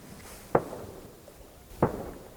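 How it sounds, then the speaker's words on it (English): Two sharp distant gunshots about a second apart, each followed by a short echoing tail around a fjord in an otherwise quiet outdoor space. "Can hear the gunshots echoing around the fjord."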